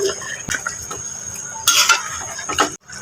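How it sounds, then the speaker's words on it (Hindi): Dry rice grains poured into a pot of water for a beef Bannu pulao, a close rustling patter with a brief louder splash and clatter near the end, no talking. "अब मैं यहाँ अपने चावल ऐड करूँगी इसके अंदर।"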